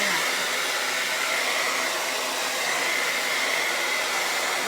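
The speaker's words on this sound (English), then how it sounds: "I'm going to take the dryer to it for just a second." A hair dryer runs steadily to dry a napkin texture craft layer, a loud, even airy whoosh with a faint whine that lasts several seconds and is heard alone.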